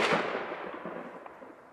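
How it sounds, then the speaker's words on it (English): A single loud shot from a .300 hunting rifle nicknamed Bertha in the Texas Hill Country, one sharp crack at the start followed by a long rolling echo that fades out. "So I'm going to shoot one more time"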